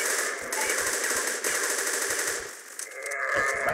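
A Kriss Super V submachine gun fires in the video game Crossfire, quick close bursts of clipped shots in irregular rhythm, pausing briefly before a final short volley amid busy game noise, with no talk.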